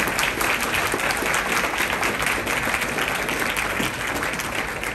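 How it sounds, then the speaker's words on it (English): An audience at a political gathering gives a long round of applause, thick continuous clapping that stays loud and steady, easing slightly near the end. "can we please give our Congresswoman and our leader a huge round of applause"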